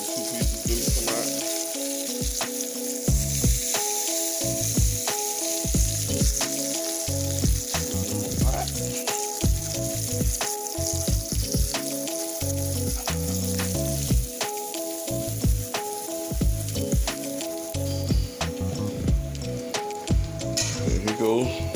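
Liver frying in a pan for smothered liver in onion gravy, a continuous close crackling sizzle with occasional pops and clatters, running steadily throughout with music playing alongside.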